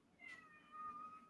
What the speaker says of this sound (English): Got a cat crying for food now.